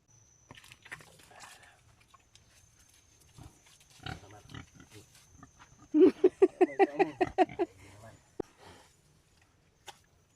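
Pigs on a farm grunt and squeal in a rapid burst of loud, rhythmic calls after quieter shuffling and scattered snorts, with people speaking faintly in the background.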